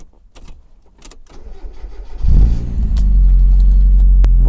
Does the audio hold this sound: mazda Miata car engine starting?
yes